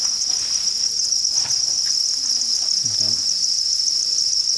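Dense, steady high-pitched chirping of many crickets at a cricket farm, continuous and close, with faint low sounds and a brief murmur underneath.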